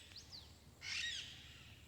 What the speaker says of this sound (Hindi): ये देखो लगातार कॉलिंग आ रही है, बहुत ज़्यादा चिड़ियों की।